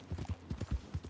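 A horse walks at a steady pace in the video game Red Dead Redemption 2. Its hooves give a soft, regular clip-clop, several even beats close up, with faint ambient background.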